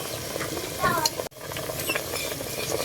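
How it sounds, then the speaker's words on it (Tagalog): A pot of mixed vegetables with sardines, sweet potato and jute leaf shoots in a little broth, stirred with steady scraping and bubbling sizzle, close and continuous, with one brief dropout. "Haluin lang po natin"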